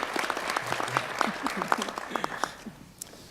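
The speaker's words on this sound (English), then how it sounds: "Let's have a round of applause for all of our candidates for San Juan County Commission," Audience applause fills the room at a 2018 county primary election candidate forum, a steady, dense clapping from a crowd after San Juan County Commission candidates speak, fairly close and sustained before fading.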